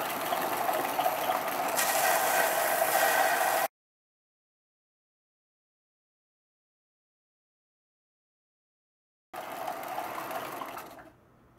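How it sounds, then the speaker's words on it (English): A belt sander with a 60-grit belt shapes a wooden mallet handle, giving a steady whirring grind. The sound comes in two bursts separated by several seconds of silence, with no talking. "next thing to do is take it over to the belt sander and refine it a little bit"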